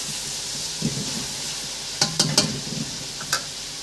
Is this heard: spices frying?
yes